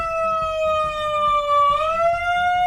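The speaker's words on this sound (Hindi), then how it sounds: "अब वो एक सायरन ले आया," A siren gives a steady, loud, buzzy wail that dips slightly in pitch and then rises again, with nothing else heard over it.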